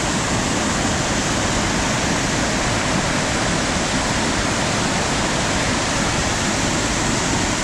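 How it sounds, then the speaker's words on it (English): Loud, continuous rushing of water in Red Bank Creek running high in rain and flooding, a dense, unbroken roar close by with no voices. "So this is Red Bank Creek"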